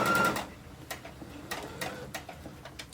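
Sewing machine back stitching near the edge of a quilted blanket: a brief loud whir at the start, then soft intermittent ticks and clicks of the machine, fairly close and alone.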